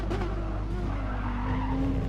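Touring car drifting over curbs in an online racing game at the Catalunya circuit, a steady loud tire squeal with engine drone underneath, continuous for the whole stretch.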